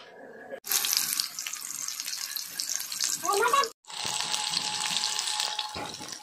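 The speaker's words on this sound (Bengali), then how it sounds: "ভাজা নেওয়া হইতেছে" Chicken pakora frying in hot oil, giving a loud, bright sizzling hiss in two long bursts broken by abrupt cuts.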